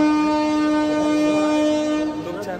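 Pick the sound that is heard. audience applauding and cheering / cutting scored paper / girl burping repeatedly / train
train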